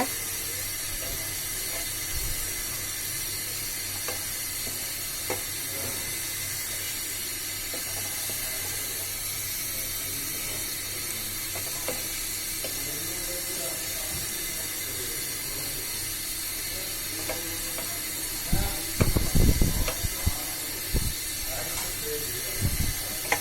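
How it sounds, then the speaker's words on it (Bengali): Onions fry in oil in a pan for beef liver bhuna, a constant hissing sizzle that runs throughout, broken near the end by a cluster of louder clattering bursts. "একটু লালচে কালার হওয়া পর্যন্ত আমরা তেলে ভাজি করব পেঁয়াজ ব্রাউন কালার হয়ে যাচ্ছে"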